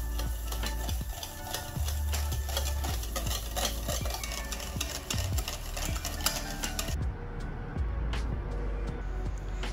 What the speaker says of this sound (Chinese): 加入蛋黃攪勻